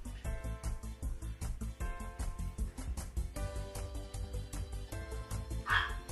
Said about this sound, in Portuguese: Aí o cachorro começou agora aqui também.